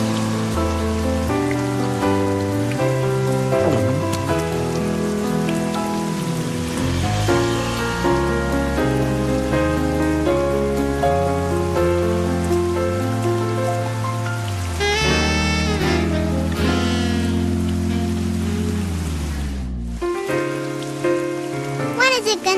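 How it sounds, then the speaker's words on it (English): Cartoon rain from an autumn Peanuts scene keeps up a steady, even patter for the whole stretch, mixed with a tonal musical score. It cuts off abruptly near the end. "When is it gonna stop raining?"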